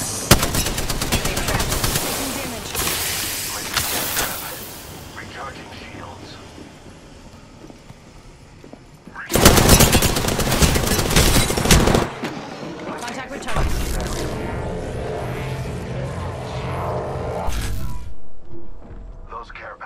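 Apex Legends firefight with loud bursts of automatic gunfire and mechanical clatter. One long, intense volley sits in the middle, and a voice speaks at points between the shots.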